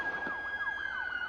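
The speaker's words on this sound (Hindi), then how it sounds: "पुलिस का सायरन माहौल में गूंजने लगा था।" Police siren in a dramatized story, a rapid yelping electronic wail sweeping up and down in quick repeated cycles with a steady tone beneath, loud and close, with no voices.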